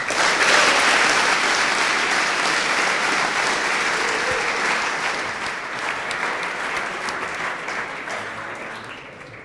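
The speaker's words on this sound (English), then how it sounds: "I think we should all give them a great round of applause." A large crowd at the HackZurich 2015 hackathon closing ceremony applauds loudly and continuously for several seconds, the dense clapping slowly thinning toward the end.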